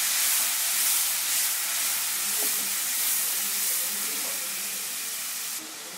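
Chopped tomatoes go into a pan of frying onions, giving a loud, steady sizzling hiss up close with a few faint clinks of utensils, easing off slightly near the end.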